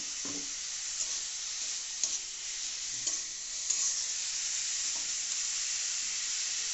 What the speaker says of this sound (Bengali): পেঁয়াজটা যে নাড়াচাড়া হচ্ছে দেখতেই পাচ্ছেন ভালো করে ফ্রাই করে হচ্ছে